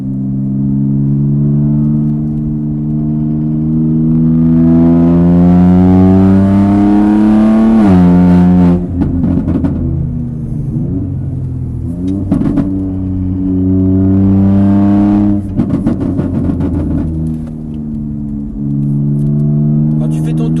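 A race car warms its brakes on a track at Mireval, its engine droning steadily with rising and falling revs and sharp downshifts, loud and close inside the cabin, while a person speaks over it.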